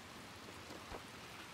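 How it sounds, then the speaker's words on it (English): Steady rain falling in the dark horror video game Little Nightmares 2, a continuous even hiss of rainfall close around the listener with a brief louder splash or rumble near the end. "All of that just to go back into the rain."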